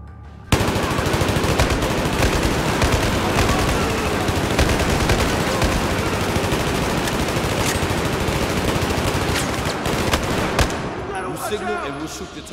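Sustained automatic gunfire in a Battlefield 4 mission in Baku, dense and loud, with rapid bursts running almost nonstop for about ten seconds before tapering off.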